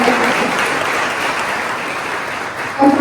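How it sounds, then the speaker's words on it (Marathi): An audience applauds a woman presenter after a talk on Ayurvedic products, a sustained burst of many hands clapping at close range that continues evenly throughout. "मॅडमसाठी आपण जोरदार टाळ्या वाजवूया"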